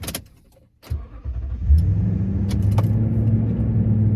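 A new Toyota Tundra pickup's engine cranks after a soft click and catches, then settles into a steady, close idle rumble with a few light ticks and jangles on top.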